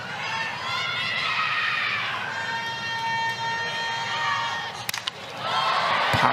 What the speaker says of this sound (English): there was an ooh and ah from the crowd when she swung